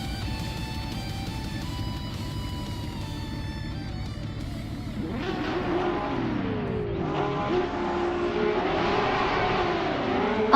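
AI-driven cars race at Fuji Vintage Club in a racing video game, starting from a steady idle drone that gives way to rising engine revs and overlapping cars roaring off the line.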